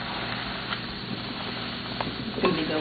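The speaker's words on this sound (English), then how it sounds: "Oh, I love to hear it sizzle." Food cooking in a pan gives a steady, close sizzle with stirring scrapes, fairly even in level with a few louder clatters near the end.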